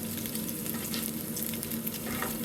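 Sun-dried pork fries in a pan, a dense, close, continuous sizzle and crackle of hot fat with no voices.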